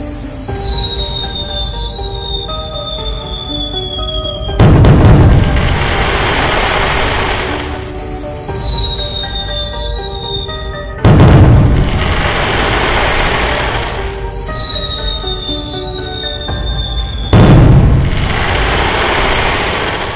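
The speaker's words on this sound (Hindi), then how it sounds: "सबसे पहले बाबा 9 शॉट्स वाला स्काई शॉट जलाते हैं।" A 9-shot sky shot firecracker is set off outdoors during festival celebrations. Three loud bangs are spaced several seconds apart, each followed by a crackling, hissing tail. High whistling tones sweep down throughout.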